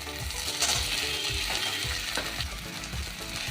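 Cauliflower is added to a hot pan for a cauliflower and fish ghonto and fries, giving a steady close sizzle. Scraping and stirring clatter sounds through it, and no one speaks.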